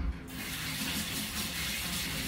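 Tap water runs steadily from a kitchen faucet into a sink or bowl to soak noodles for home-cooked pad Thai, a continuous close hiss and splash with no talking.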